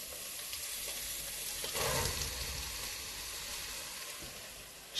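Onions drop into a hot pan and give a steady close hiss of sizzling, which swells briefly near the start and then settles into an even frying noise, with no voices.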